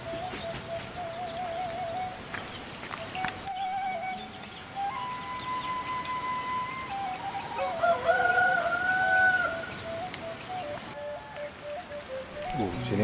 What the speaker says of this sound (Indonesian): Suara ayam berkokok lah ya